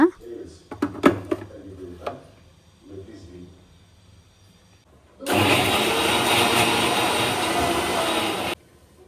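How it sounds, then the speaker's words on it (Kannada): Mixer grinder blending spinach and onion with water, a loud continuous roaring whir that starts abruptly after a few seconds of talk and handling noises, then stops. "ಈಗ ಇದಿಷ್ಟನ್ನು ನುಣ್ಣಗೆ ನೀರನ್ನು ಹಾಕಿಬಿಟ್ಟು ರುಬ್ಕೊಳ್ಳೋಣ."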